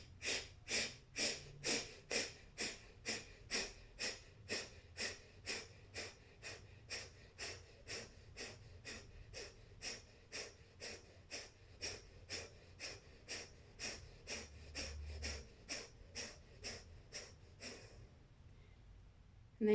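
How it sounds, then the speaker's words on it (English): Rhythmic forceful breathing during a yoga breathing exercise, a long run of quick, evenly paced sharp nasal exhalations about two per second, close and fairly faint, ending in a brief pause. "And then doing one more round, starting with a breath in."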